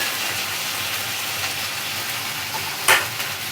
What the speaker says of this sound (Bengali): এটা দিয়ে একটু ভাজতে থাকবো।